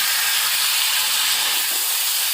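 Vegetables hitting a hot pan after tempered spices, a loud continuous sizzle and hiss filling the whole stretch, close and steady with no talking.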